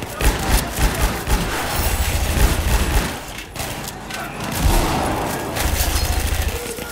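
Heavy gunfire rattles through a Battlefield 4 Conquest Large match on Operation Locker, with dense bursts of shots and thumps pounding nearly continuously over the whole stretch.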